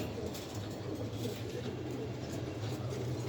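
Pigeons cooing on a pigeon farm, a steady low rolling coo from several birds nearby, with a constant background hum and no talk.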